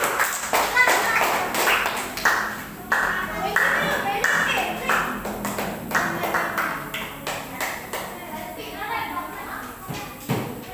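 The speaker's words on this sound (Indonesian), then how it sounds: "Iya, tepuk tangan untuk kelompok 1." Group applause in a classroom activity, with brisk, uneven clapping from a small crowd that goes on for about ten seconds alongside children's voices and chatter.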